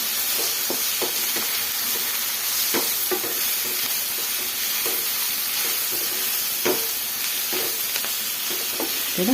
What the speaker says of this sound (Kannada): ಈಗ ಗರಂ ಮಸಾಲ, ಎಲ್ಲ ಸೇರಿಸ್ಕೊಂಡು ಚೆನ್ನಾಗಿ ಸ್ವಲ್ಪ ಫ್ರೈ ಮಾಡ್ಕೊಳ್ಳೋಣ